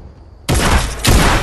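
Two heavy, loud gun blasts from a Fortnite weapon, about half a second apart, each ringing out with a broad booming tail, and no talking.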